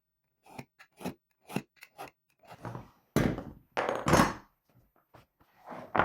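Sharp scissor snips cutting leather for a tote bag, about a dozen crisp cuts in an irregular rhythm, close and fairly loud, with a couple of longer, heavier crunching cuts near the middle and no talking.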